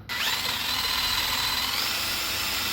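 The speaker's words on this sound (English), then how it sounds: "I'm just using a wire wheel with my drill." A power drill whines steadily at high speed with a harsh, gritty scraping of a wire wheel cleaning rust off Toyota Camry rear brake parts, close and continuous.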